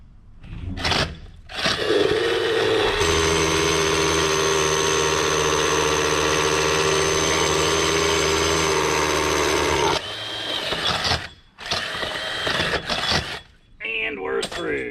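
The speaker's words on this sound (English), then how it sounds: "It melts around the drill bit." A power drill runs steadily for several seconds, a loud continuous whine with grinding undertone, starting and stopping abruptly amid brief surrounding noise.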